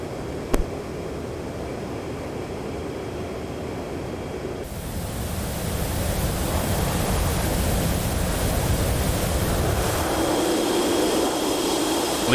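In a flight game, an airplane engine roars as a steady broadband rush during the approach to a runway between mountains, swelling slightly louder partway through, with no talking.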